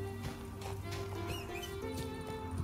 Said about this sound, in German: Oh nein, ein Pferd wollte ich jetzt eigentlich nicht.